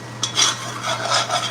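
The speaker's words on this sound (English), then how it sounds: "I'm always quick in stirring eggs" Eggs being stirred in a stir-fry pan, with a utensil scraping and clinking against the metal in a few quick, close strokes and no talking.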